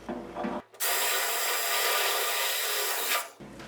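A power drill whines as a step bit grinds steadily through a metal rear bumper part of a Triumph Spitfire for about two and a half seconds, loud and close, with brief quieter moments before and after.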